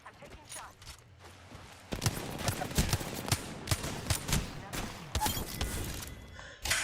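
Gunfire in the Apex Legends video game rattles in rapid bursts and single sharp shots, faint at first and then louder and sustained, with a player speaking intermittently.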